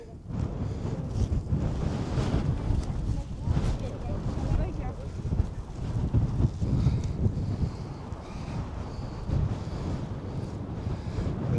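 Wind sweeps a Tatra mountain ridge near the Slovak border on the Wołowiec hike, with a steady, blustery roar buffeting the microphone and rising and falling gusts throughout.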